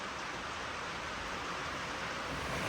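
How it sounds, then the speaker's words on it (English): Heavy rain pours down steadily outdoors during a mower tire repair, making a dense, unbroken hiss that stays constant and fairly loud throughout. "It's pouring down rain"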